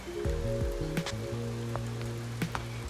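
Steady rain falls on a rainy day, a soft continuous hiss of drops with a few brief tonal chirps over it and no voices.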